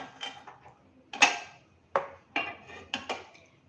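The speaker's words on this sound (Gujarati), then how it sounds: "ગેસ ચાલુ કરીશું." A kitchen gas stove is lit with a series of sharp, close igniter clicks, about six of them spaced irregularly, with no talking.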